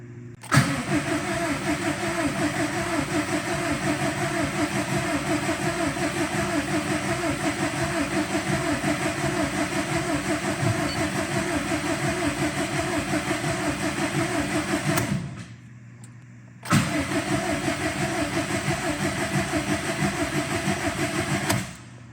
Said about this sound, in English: we're ready to crank it over at least and see if we got any leaks